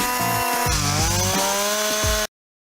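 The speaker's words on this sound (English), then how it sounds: "What I like to do for fun is start up a chainsaw and carve something." Chainsaw carving wood, the saw engine revving and whining loud and close as the chain bites and rises and dips in pitch, then cutting off abruptly near the end.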